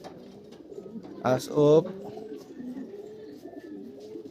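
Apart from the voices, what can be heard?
pigeons cooing at a loft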